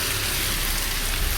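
Steady heavy rain falling at night, a dense continuous hiss of drops close by with no pauses.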